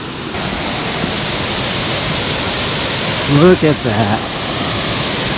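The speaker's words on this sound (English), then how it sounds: "I hear a waterfall. I see a little waterfall through the trees." A big waterfall tumbling through trees in the Appalachian mountains, heard during a trout fishing trip, roars as a steady broadband rush throughout, with someone speaking briefly over it near the end.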